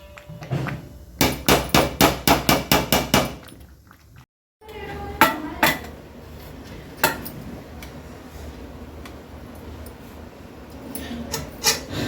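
Dal khichdi being served into a metal lunch box: a quick run of about nine sharp metallic taps from a spoon against the box, then a short pause and a few scattered clinks and scrapes, close and clear.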